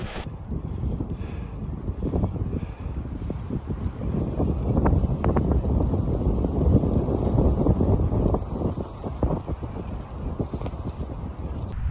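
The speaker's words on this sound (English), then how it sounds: "Wind's blowing so good, it's almost got my tracks completely covered." Wind gusting in extreme snowy conditions out on a trail while riding a Surly Ice Cream Truck fat bike, producing rough, rising and falling buffeting that roars against the microphone, with no talking.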